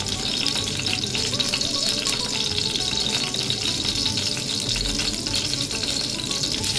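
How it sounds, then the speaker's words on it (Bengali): Hot oil in a pan, heated to sizzling before panch phoron spices go in, crackles and fries in a dense, continuous close-up sizzle with no voices over it. "গাইস, তেলটা গরম হয়ে শব্দ পাচ্ছ, গরম হয়ে গেছে"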